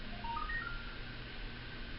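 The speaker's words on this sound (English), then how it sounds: "Sorry, that was my phone." Mobile phone giving a short run of quiet electronic beeps and tones over a low background hum, brief and faint, with no one talking.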